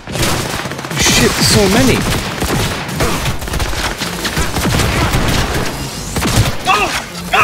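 Rapid light-machine-gun fire in Cyberpunk 2077, sustained loud bursts with booming impacts throughout, while a player talks over the shooting.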